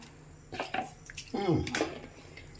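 Flattened rice (aval) rinsed with water in a strainer for vadai, giving short splashing and sloshing sounds close by while someone speaks over them.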